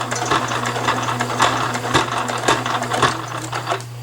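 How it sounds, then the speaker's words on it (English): A sewing machine back stitching along the seam of a fabric scrunchie, a loud close steady hum with rhythmic needle ticks and a few sharper clicks, no voices. "You're going to sew down it, you're going to stop, and then you're going to back stitch all the way up"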